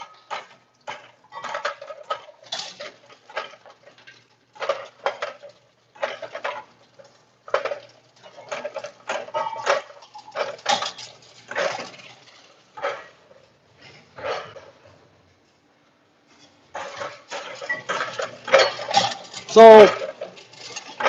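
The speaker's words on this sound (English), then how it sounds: "The machine automatically peels the eggs for you." An automatic egg peeling machine runs with irregular clattering, tapping and rattling bursts, clustered knocks separated by brief quiet gaps, including one near-silent stretch before the clatter resumes.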